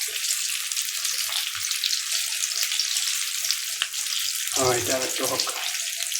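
Samosas frying in hot olive oil give a dense, steady bubbling hiss close by that runs throughout, with a person speaking briefly over it near the end.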